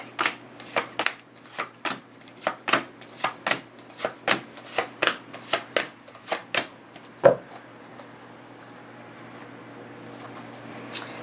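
Tarot cards are shuffled by hand in a run of about fifteen crisp, rhythmic riffling bursts, close and clear. After one louder knock the shuffling stops, and only faint quiet room tone remains.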